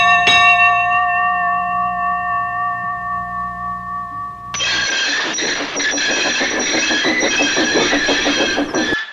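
A train engine approaches with its bell ringing. Clear sustained bell tones sound first, then a loud, dense mechanical rumble with rhythmic chuffing takes over and continues to the end.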